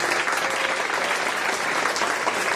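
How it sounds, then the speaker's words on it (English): Steady, dense clapping from a crowd, sustained and fairly loud throughout with no pauses. "we should give the Serra Club a great round of applause"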